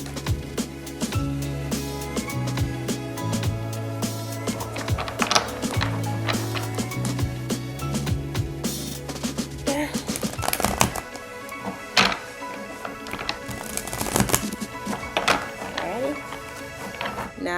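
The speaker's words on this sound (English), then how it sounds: "So I'm going to shuffle this deck a little bit." A Star Spinner tarot deck is shuffled by hand, giving repeated soft riffling and tapping of cards in irregular bursts, with a person talking throughout.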